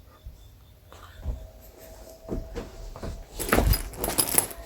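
House keys jangle in bursts of bright metallic rattling that grows louder toward the end, with faint shuffling and handling noise in a quiet room.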